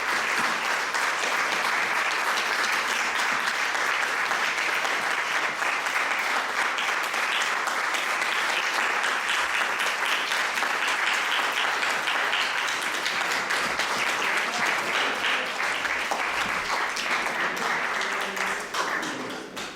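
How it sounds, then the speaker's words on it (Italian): Steady, sustained audience applause fills a hall at the XXIV Premio Venezia 2017 ceremony, dense and even for nearly twenty seconds before tapering at the very end. "Un applauso al maestro Michele che ha portato tante culture in questa città"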